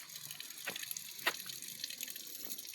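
A small forest waterfall runs as a faint, steady wash of flowing water, with a few soft splashes and drips rising briefly over it.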